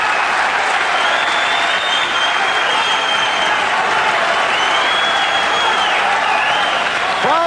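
Boxing crowd in London at an Edwin Rosario vs Frankie Randall fight, clapping steadily with shrill whistles rising over the loud, continuous roar of the arena.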